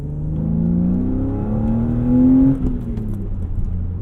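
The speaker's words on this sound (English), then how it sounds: "And the exhaust isn't too droney either." A BMW E36 M3's exhaust revs up with a rising, throaty engine note, then drops back to a lower rumble, recorded close to the vehicle.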